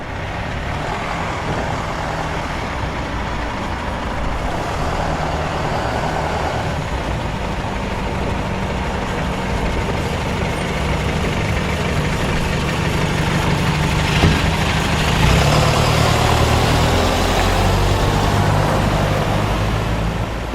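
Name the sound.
bus RM1005 Cummins Euro 6 engine idling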